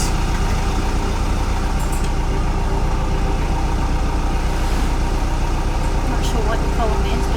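A sailboat's inboard engine runs at reduced throttle with a steady, loud, low mechanical drone and vibration throughout. Wind or water noise blends in, and faint clanks sound in the background.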